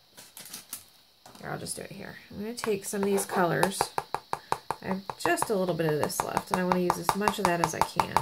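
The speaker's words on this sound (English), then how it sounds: "sorry for the tapping noise" Rapid, uneven tapping clicks repeat steadily while a person talks over them the whole time.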